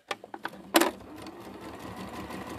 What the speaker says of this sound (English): I'm just going to stitch that little one down.